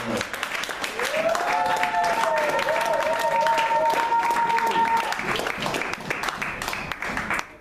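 A church congregation applauds and acclaims the Lord with dense, steady clapping for several seconds, while a high wavering voice sings or ululates over the crowd.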